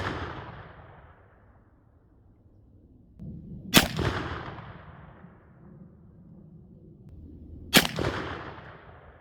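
Two sharp shotgun reports about four seconds apart, each with a ringing outdoor decay, from Winchester Super X .410 3-inch 1/4 oz slugs fired through a NEF Pardner Model SB-1 youth .410 at a 25-yard range.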